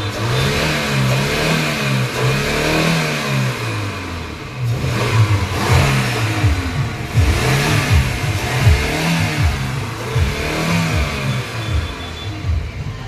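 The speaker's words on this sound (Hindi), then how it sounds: "देखो इंजन की आवाज़ भाई कैसी लग रही है" A Maruti Eeco van engine with a misfire problem revs repeatedly, rising and falling in steady surges over a continuous rumble, close and loud with no talking.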